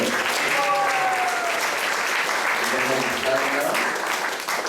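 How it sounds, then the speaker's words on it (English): An audience at a Sunday gathering in an ISKCON temple in Atlanta applauds devotees, with a steady wash of clapping sustained at an even level from start to finish and faint voices mixed in. "So let's give a round of applause to the devotees."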